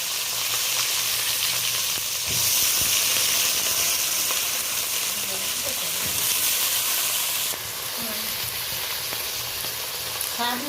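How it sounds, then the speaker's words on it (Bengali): Eggplant frying in hot oil with a black cumin tempering, a loud, continuous close sizzle with faint stirring, no talking. "আমি কালো জিরে ফোড়ন দিয়ে বেগুনটা ভেজে নিলাম"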